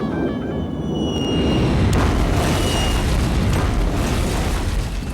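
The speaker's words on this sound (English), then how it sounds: "A cartoon airstrike" Cartoon airstrike explosion, a heavy rumbling boom that swells and rolls on as a loud, sustained low roar.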